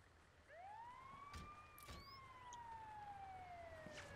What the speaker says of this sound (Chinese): 救护车停下 来！救护车是来救我的吗？